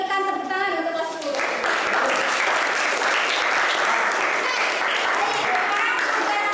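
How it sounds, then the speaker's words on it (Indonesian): Classroom applause for a class 10 group after their presentation, starting about 1.5 seconds in and then sustained dense clapping to the end; a voice is heard over the opening before the clapping takes over. "Kita berikan tepuk tangan untuk kelas 10."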